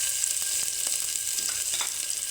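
Crushed garlic, mustard seeds and curry leaves frying in oil for a sambar, making a brief, steady hiss. A few light stirring taps sound over it.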